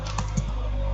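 Rapid typing on a computer keyboard while entering Urdu text in InPage with a phonetic keyboard layout: a steady run of close, crisp key clicks with no voice.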